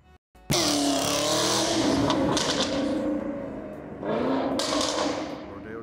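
A supercar pulls up on Rodeo Drive in Beverly Hills, its engine revving loudly and close, then easing off and surging again under a busy street backdrop.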